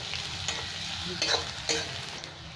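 Chopped ginger and garlic sizzle steadily in a hot pan while a spatula stirs and scrapes, with a few sharper scraping accents standing out over the continuous frying hiss.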